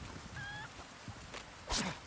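Chickens in the video game Resident Evil 4 Remake give a couple of faint, brief clucking calls over a low game ambience.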